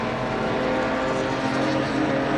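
Unmodified BMW 745 race car running on track during a BMW M Performance Parts race, a loud steady engine drone held throughout with no pauses.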